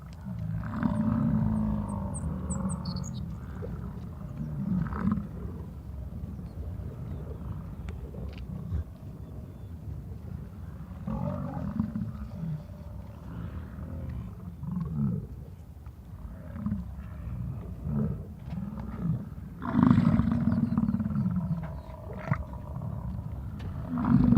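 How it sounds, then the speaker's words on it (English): Male animals in Yellowstone National Park give deep, rumbling grunts that rise and fall in repeated low bursts, close and fairly loud against outdoor ambience, with no talking. "It's the males that are making that grunting noise, and every time they do it, they stick their tongues out."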